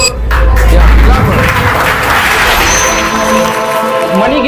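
Outdoor students clap together in a dense, sustained wash of applause that starts after a low thump and fills the rest of the moment at a fairly loud level.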